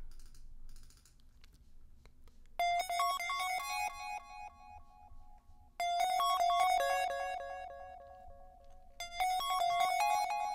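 Analog Basic software synth from GarageBand and Logic playing alone: short bright bleeping notes in quick repeated arpeggiated bursts, separated by gaps, faint keyboard clicks audible underneath.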